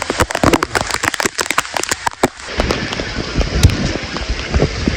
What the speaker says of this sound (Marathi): खूप म्हणजे खूप जोरात पाऊस पडत आहे